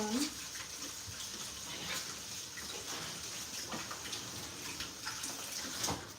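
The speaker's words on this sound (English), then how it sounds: "Let me wash off the spoon." Running tap water splashes over a spoon being washed at a kitchen sink, a steady close rush of water with small clatters, with faint talk in the background.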